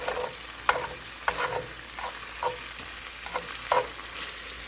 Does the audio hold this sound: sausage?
yes